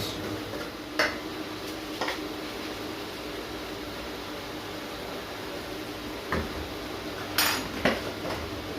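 Moussaka ingredients seasoned with salt and pepper being mixed in a pan; a utensil scrapes and taps against the metal in sparse, irregular knocks over a steady low background, close and without speech.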